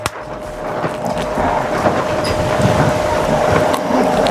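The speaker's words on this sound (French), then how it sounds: "Je sais pas si vous entendez le vent, mais il y a un peu de vent quand même" Gusty wind buffets an outdoor microphone beside a rotisserie roasting a farm chicken, a steady rough rumble with brief stronger blasts throughout, no speech heard.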